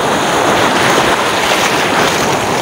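Big ocean waves and wind roar continuously around a small fishing boat at sea, loud, close and broadband with no voices.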